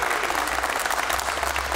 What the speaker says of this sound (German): Das ist ein Applaus wert, glaube ich, oder?